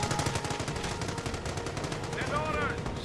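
Machine gun fire in the video game Company of Heroes comes as rapid, steady bursts throughout, loud and close, with a faint whine of another weapon sound near the end.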